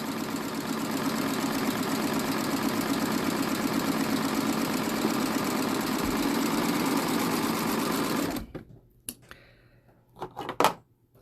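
A serger overlocker stitches a rolled hem along one side of a napkin with 12 weight thread, a steady close mechanical whir for about eight seconds that stops abruptly, followed by a few faint handling clicks.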